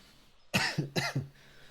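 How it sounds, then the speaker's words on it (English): Two sharp coughs in quick succession, close and fairly loud, each followed by a short throaty catch, with quiet before and after. "still have a little bit of a cough"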